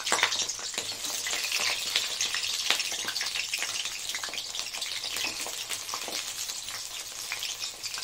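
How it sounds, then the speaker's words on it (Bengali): Eggplant frying in hot mustard oil hisses and sizzles in a steady, close crackle with faint stirring scrapes, alone without talk. "এই যে সরষের তেলটা গরম হয়ে গেছে, এটা আগে বেগুনটা ভেজে নিই।"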